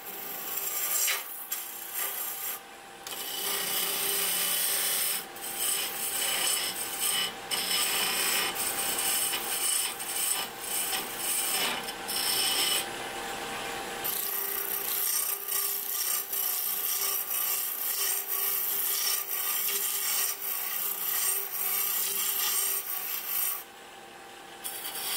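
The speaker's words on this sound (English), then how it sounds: "Now we'll go ahead and trim down the OD for the snowman's head" Wood being turned on a lathe while a snowman shape is trimmed down, with a steady rasping, scraping tool cut through the whole stretch and brief pauses, loud and close with no voices.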